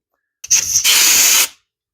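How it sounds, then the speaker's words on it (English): Portable tire inflator clamping onto a car tire valve: a brief sharp hiss of escaping air, a quick spurt then a steady burst of about a second, close and loud, alone. "All you should have to do is clamp it on the little nozzle here, the tire nozzle."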